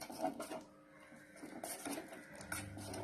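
Sathu maavu kanji being stirred with milk and sugar in a vessel, a steady soft scraping and clinking of a spoon against the pot, quiet and close, with no talk.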